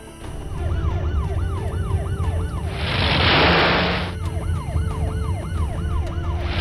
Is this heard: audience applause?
no